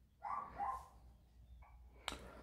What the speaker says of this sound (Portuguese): vamos ver o cachorrinho latindo ali